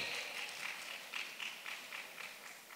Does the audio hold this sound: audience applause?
yes